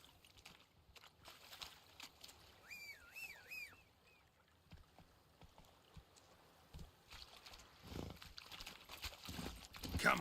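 Roach, a horse in The Witcher 3 video game, clip-clops along in a steady hoof rhythm, moderately loud, with brief whinny-like tones early and rising noise toward the end.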